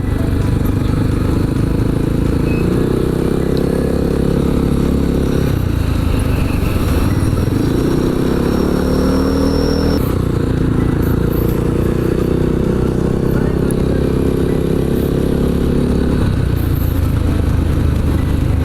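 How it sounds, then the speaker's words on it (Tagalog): Motorized public tricycles, mostly white uniform motorcycle-based units, pass by on a street in Kidapawan City, with a continuous engine drone swelling and fading as they drive past, close and fairly loud. "Ito yung mga public tricycle."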